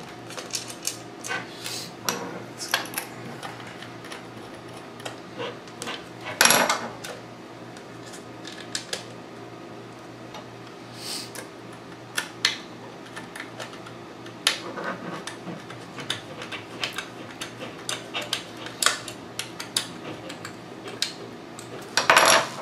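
Small hard drive screws go into a Popcorn Hour media player, with light metallic clicks, scrapes and taps scattered irregularly and close up, and a few sharper knocks, no talk.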